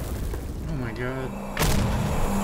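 A grenade goes off in the video game S.T.A.L.K.E.R. Call of Pripyat, a sudden loud boom partway through that rumbles on to the end, after a brief stretch of game ambience.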